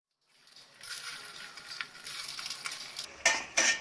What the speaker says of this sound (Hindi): अब सूजी बॉल्स को फ्राई करेंगे।